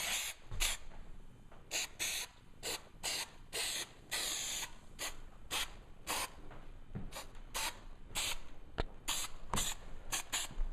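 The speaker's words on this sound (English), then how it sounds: "we're just spraying this last part out" Short hissing bursts of spray adhesive inside a Victory Vision motorcycle trunk lid repeat at an uneven rhythm, close by, with quieter gaps in between and no talking.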